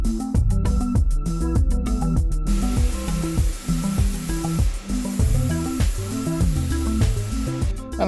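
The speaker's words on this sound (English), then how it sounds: "once I try and hit it with some lacquer" Lacquer sprayed from a can onto a Nissan Skyline R33 GTS-T tail lamp: a steady close hiss running throughout, mixed with continuous rhythmic background music.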